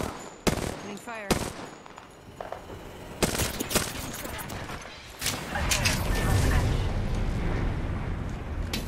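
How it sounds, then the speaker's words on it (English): Gunfire in the battle royale shooter Apex Legends comes as several sharp, loud single shots, then bursts of rapid automatic fire. Talk is heard between the shots, and a sustained rumbling clatter of firing and effects runs to the end. "Opening fire."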